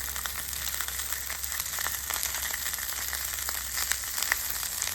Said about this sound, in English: Here is lunch being cooked.